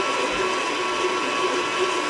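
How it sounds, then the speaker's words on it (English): A stand mixer with a dough hook kneading wet focaccia dough, giving a steady, loud motor whine and hum that runs unbroken with no talking. "Put on a dough hook and let it go for about 6 to 10 minutes"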